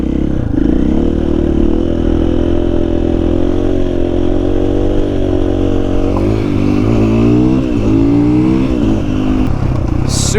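An XR80 motorcycle with a KTM power bundle runs loud and close, holding a steady drone before revving up and down in rising sweeps as it accelerates.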